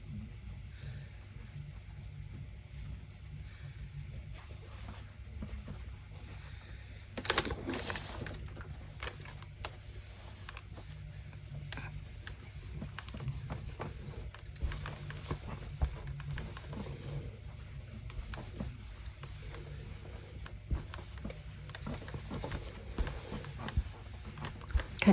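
A sewing machine top stitches a doll's jumper, a steady low mechanical hum with light rapid clicking that runs throughout at a fairly even level.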